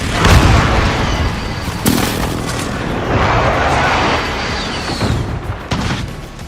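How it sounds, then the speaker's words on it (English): Grenade blast in a combat shooter video game: a loud, close burst of booming explosions and rattling gunfire that rumbles on for several seconds, with a second sharp boom partway through and battle noise continuing underneath. "Grenade out!"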